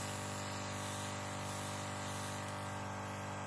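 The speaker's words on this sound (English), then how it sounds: "I'm going to turn this on. And we're going to go ahead and spray test" A steady, soft hiss of an airbrush spraying makeup continuously, even and unbroken throughout, fine and airy with no voices.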